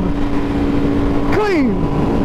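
A Ducati Panigale V4 R motorcycle pulls hard in second gear, its loud, close engine note rising steadily and then dropping sharply as it shifts, with a continuous roar throughout.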